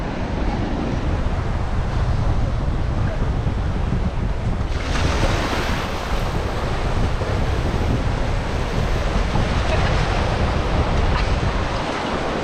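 Ocean surf breaking on a drive-in beach at Muzhappilangad, Kerala. The wash is continuous and loud, with heavy wind buffeting the microphone and a surge as a wave rolls in partway through. No one talks.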